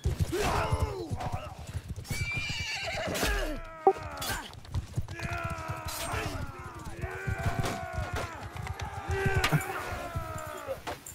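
Horses in the video game Bannerlord, in a tournament match, gallop with rapid, dense hoofbeats while repeated loud neighs and whinnies rise over the din, with a few heavy thunks mixed in.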